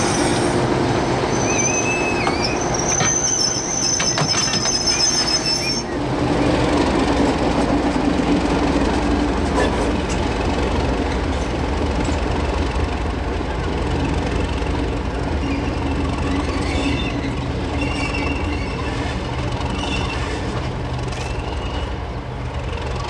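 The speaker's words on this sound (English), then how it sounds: "In the cab of 1429, we capture some final shunting movements as the train is put away for the day." Diesel locomotive DE 1429 shunting a train on the Weka Pass Railway, heard from inside the cab: a steady, continuous engine rumble with rolling wheel and rail noise and occasional squeals, running throughout with no talk.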